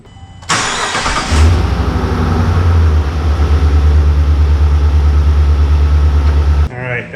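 A 5th-gen RAM 1500 Rebel pickup's 5.7L eTorque HEMI V8 turns over and settles into a steady, low idle that hums evenly for several seconds before cutting off.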